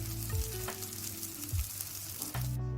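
Small flattened vegetarian balls pan-fry with a steady close sizzle, broken by a few brief clunks and low knocks from a pan or utensil.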